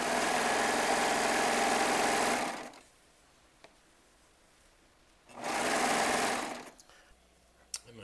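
A Baby Lock serger sews fabric squares with its differential feed at neutral, giving two loud, steady mechanical runs of about two and a half seconds and one and a half seconds, separated by a quiet pause with faint handling clicks.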